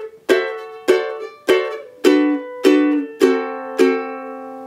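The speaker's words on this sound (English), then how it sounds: "We're just going through inversions of a D7th chord with our melody up top" Ukulele picking out a series of D7th chord inversions with the melody note on top: seven evenly spaced, ringing chord plucks, each decaying before the next, played alone and close.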